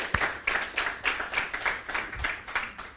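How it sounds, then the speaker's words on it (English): A small audience claps at a talk, light rhythmic hand claps repeating steadily at a modest level, fairly close and without voices. "Let's give them another round of applause."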